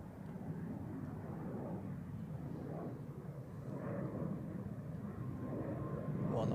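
Air Baltic airliner from Riga landing at Zurich Airport, a faint, steady jet roar that swells gradually as it approaches, with no voices.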